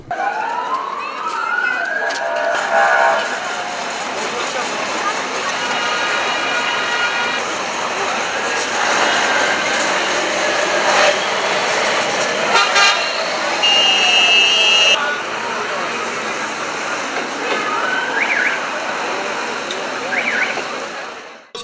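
New KrAZ military trucks leading a returning convoy sound their horns in greeting to a welcoming crowd. Long sustained horn blasts overlap and recur over a steady roar of background noise.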